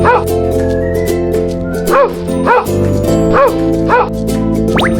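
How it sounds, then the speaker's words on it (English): A dog barks and yips in a rapid run of short, sharp calls, about six or seven loud bursts spaced unevenly, heard up close over a steady background hum. "Dog."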